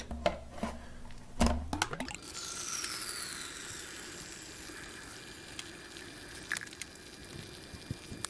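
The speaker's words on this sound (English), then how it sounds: "The bottom water pump screw is your drain for the coolant." Engine coolant drains out of the bottom water pump drain screw after the radiator cap is cracked. After a few knocks it becomes a steady, faint trickling hiss that continues to the end, with no talking.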